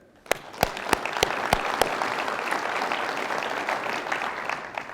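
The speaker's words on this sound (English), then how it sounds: "Give yourselves a round of applause" A State of the City audience applauding itself, a full room of steady clapping that starts with a few sharp claps and holds dense and even to the end.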